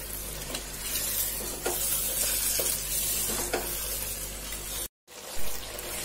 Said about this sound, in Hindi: टिक्के को हम अपने मसाले में 2 मिनट के लिए अच्छे से भून लेते हैं।